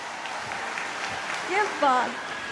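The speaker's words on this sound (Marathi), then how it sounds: "एकदा हात वर करून एकदा जोरदार टाळ्या झाल्या पाहिजेत" An audience at a speech event in Kolhapur applauds with sustained, even clapping throughout, while a voice speaks briefly over it near the end.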